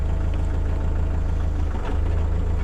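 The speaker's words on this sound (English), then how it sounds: "And I'm gonna turn on the PTO" A Kubota L4060 tractor engine with the PTO engaged drones steadily at idle with a low, pulsing rumble and constant mechanical hum, close by and unchanging.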